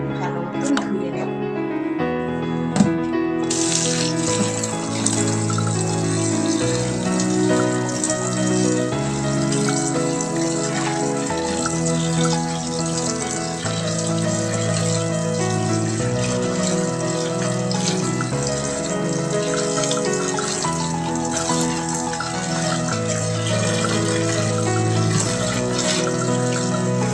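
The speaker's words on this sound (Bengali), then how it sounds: "এইবার এইগুলোকে ঝুড়িতে ভালো মতন সাজিয়ে এবার এটাকে ভালো মতন ধুয়ে নেব" Tap water runs steadily over fresh coriander leaves arranged in a basket as they are washed, a continuous close splashing gush lasting throughout.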